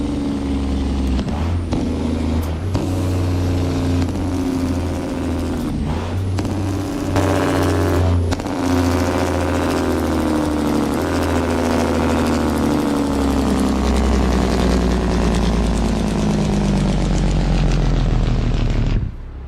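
A truck's multi-stage engine brake in a truck simulator game, a deep, grumbly, sustained engine roar with rising and falling pitch, loud and close, running steadily for the whole stretch with no talk.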